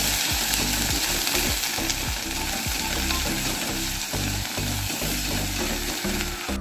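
Ginger-garlic paste with cumin and coriander powder frying and being stirred in a pan, a steady loud sizzle broken by repeated scraping strokes of the spoon, no voices.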